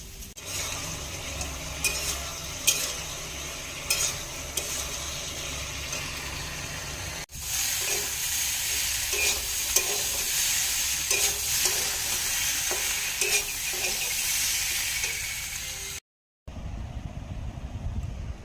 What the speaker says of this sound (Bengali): কাঁকরোল আলু ভাজা হচ্ছে